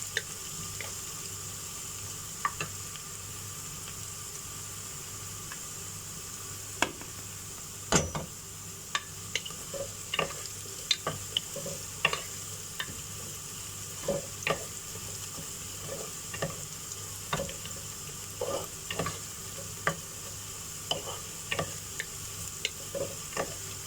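Ginger and garlic roast in hot oil for a khada masala mutton stew, a steady low sizzle broken by frequent sharp clicks and taps of a spoon stirring against the pan, with no talking.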